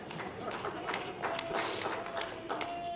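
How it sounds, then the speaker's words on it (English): Light, thin applause from a church congregation, scattered claps sustained for a few seconds at moderate level with no voices over them. "That was a very light round of applause"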